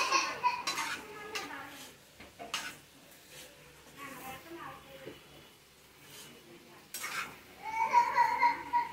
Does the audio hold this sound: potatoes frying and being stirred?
yes